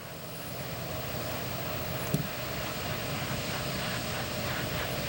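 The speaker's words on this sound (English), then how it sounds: "That huffing noise you hear in the background is the auxiliary power unit that provides the muscle" A space shuttle's auxiliary power unit running before launch, giving a steady broadband roar with a faint huffing pulse, heard at a distance under constant wind-like rumble, with one brief click partway through and no voices.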